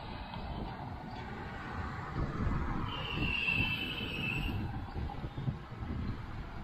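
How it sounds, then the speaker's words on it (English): An ex-PRR GP9 diesel locomotive and its train coast downhill with a low, rumbling roll of wheels on rail, fairly faint and continuous, with a brief thin metallic squeal rising midway. "So this locomotive is going to be pretty much coasting downhill."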